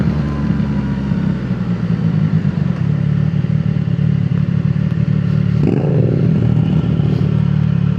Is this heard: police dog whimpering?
no